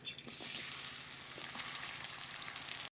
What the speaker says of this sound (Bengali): পেঁয়াজটাকে আমি হালকা ভেজে নিয়েছি